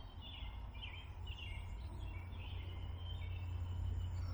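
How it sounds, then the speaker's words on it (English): Birds sing outdoors at a fishing spot, with faint repeated chirps drifting over a steady low rumble of distant traffic. "All the birds."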